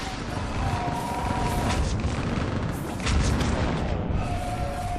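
Artillery fire support pounding during a battle in the video game Mass Effect 3: dense, continuous booming explosions and crashing impacts fill the scene, with a few faint tonal sounds and effects layered over the barrage.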